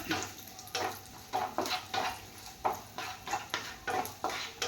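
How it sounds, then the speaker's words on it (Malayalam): Cashews and raisins tossed in a hot pan, with a steady, repeated scraping of a spoon against the metal and a light sizzle underneath, close and moderately loud. "ഈ മുന്തിരിങ്ങായും കൂടി ഇട്ട് കൊടുക്കാം എന്നിട്ട് അതും കൂടി ഒന്ന് ഇളക്കി കൊടുക്കാം"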